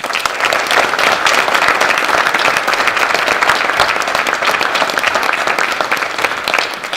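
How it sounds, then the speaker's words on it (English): A crowd at a high school National Honor Society induction ceremony for the class of 2021 breaks into loud, sustained applause for the inductees. Dense clapping holds steady for several seconds, then eases slightly at the end, with no speech. "you deserve another round of applause"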